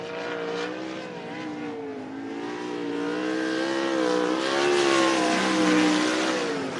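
A race car at Cottage Grove Speedway runs a timed lap, its engine a steady, loud drone that climbs and falls in pitch as it accelerates and eases around the oval, heard alone with no talk.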